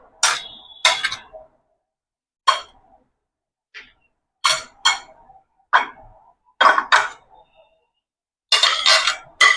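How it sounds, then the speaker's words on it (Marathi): A spoon stirs grated paneer stuffing with pepper, salt and red chili in a bowl, giving sharp, intermittent clinks and scrapes against the bowl separated by short silences. "आता आपण हे सर्व मिक्स करून घेऊया एका बाउलमध्ये"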